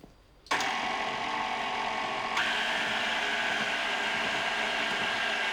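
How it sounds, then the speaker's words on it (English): A stand mixer whirs steadily with its paddle attachment working dough for chocolate frosted doughnuts, starting abruptly from near silence, holding a loud continuous motor drone and then rising slightly in pitch partway through, with no talking. "We'll mix that up with the paddle at first."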